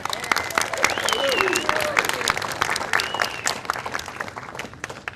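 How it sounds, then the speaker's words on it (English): Applause breaks out for a World War II veteran at a Veterans Day event in Richmond, California, a dense crowd clapping steadily with voices mixed in, swelling and then tapering over five seconds. "Give him a round of applause."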